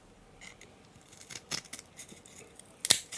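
Snips and crunchy clicks of a cutter working through an electronic circuit board, faint and close, with a few scattered cuts and one sharper snap near the end.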